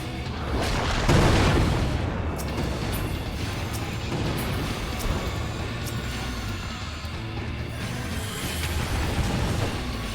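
A bomb boulder blows up in Final Fantasy XIV, a heavy booming blast near the start that leaves a dense rumbling roar of game effects running steadily to the end, with no talking.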